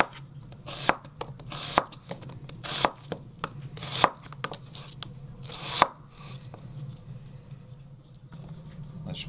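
A knife slices an onion into half-rings on a cutting board, with sharp, distinct chops coming every second or so, close and fairly quiet, followed by softer scraping and rustling.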